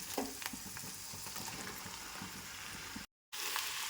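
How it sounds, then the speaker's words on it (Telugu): Boiled goat intestines crackle and sizzle steadily in hot oil as they fry, with a brief stir and a short gap near the end, close and fairly loud with no talking. "ఇలా పైపులను వేగేంత వరకు ఆయిల్లో మంచిగా ఇలా చేసుకోవాలి."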